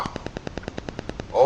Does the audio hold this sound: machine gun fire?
yes